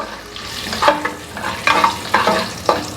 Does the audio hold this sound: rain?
no